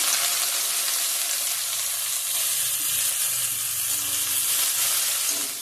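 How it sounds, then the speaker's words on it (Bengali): Chopped garlic frying in a pan while cooking a bean-seed curry, giving a steady, close, continuous sizzle that holds at an even level throughout with no talking. "কুচানো গুলো দিয়ে দেবো রসুন কুচানো"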